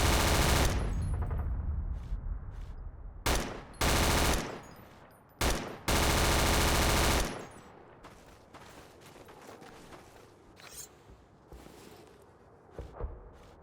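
M203 rifle firing in Battlefield 2: loud, close bursts of rapid automatic fire in several separate strings, followed by quieter mechanical clicks and handling noises.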